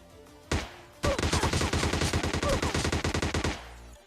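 Gunfire in PUBG: a single sharp shot, then a rapid, evenly spaced burst of automatic fire lasting about two and a half seconds, loud and close.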